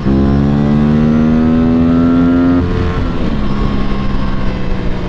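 An Aprilia RS457 motorcycle engine runs loud and close while riding, a steady droning tone holding even revs before shifting lower partway through, then rumbling on alone.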